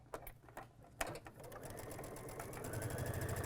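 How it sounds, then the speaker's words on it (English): A sewing machine stitching triangle pieces of a Storm at Sea quilt together, a steady mechanical whir that starts after a few sharp clicks and carries on close and even to the end. "now I'm just going to pick up the second triangle and sew it on the opposite side"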